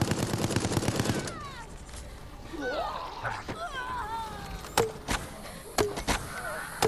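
Rapid gunfire bursts from Resident Evil Resistance, a dense loud volley at the start, then scattered sharp single shots amid creature screeches and game noise.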